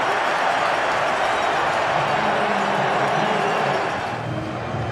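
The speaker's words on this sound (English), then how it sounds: "A delighted sellout crowd at Giants Stadium" Steady roar of a sellout stadium crowd cheering at Giants Stadium during an NFL conference championship football game, a broad continuous wash of noise, distant and sustained, with faint commentary beneath.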